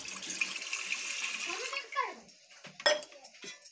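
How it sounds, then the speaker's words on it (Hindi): Water from a tap splashes into a pressure cooker set up for steaming idli, a brief rush of pouring with clinks of metal cookware, fairly close, followed by short clattering sounds. "तो अब हम डाल देते हैं कुकर में पानी।"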